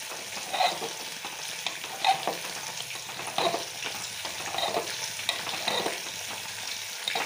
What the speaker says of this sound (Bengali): মাছের মাথাগুলোকে আমি একটু ভাজা করে নিচ্ছি